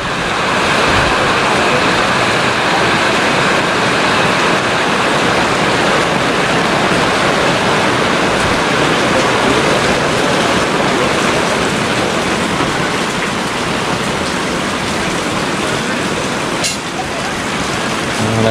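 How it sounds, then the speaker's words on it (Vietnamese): Heavy rain pours down over the stalls at Binh Tay market in Saigon's Cho Lon, a dense, steady hiss that fills the whole stretch with little variation. "Bây giờ là mưa rồi."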